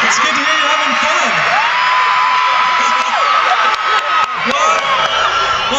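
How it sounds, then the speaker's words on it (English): Concert crowd at the back of a show in Glendale, cheering, whooping and shouting loudly and continuously, a dense wall of voices with scattered high yells throughout. "I think you're the loudest back crowd we've ever had"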